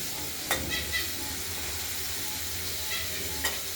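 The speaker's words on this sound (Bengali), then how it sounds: "আলুগুলো ভাজা হচ্ছে" Potatoes fry in a pan, a steady close sizzle with a few sharp clicks and scrapes of a utensil against the pan, sounding alone without speech.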